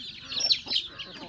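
Village chickens with chicks make quick, high clucks and chirps in short irregular bursts, close by and moderately loud, with nobody speaking.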